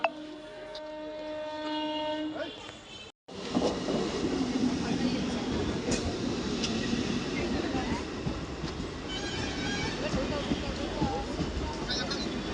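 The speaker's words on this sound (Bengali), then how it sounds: "এই যে এখন আমাদের ট্রেন ঢুকে গেছে তো এই ট্রেনে উঠবো এখন আমরা" A train arriving at a busy Kanchrapara station platform, a loud continuous rumble and rolling clatter with a brief horn-like tone at the start, crowd noise and voices around it.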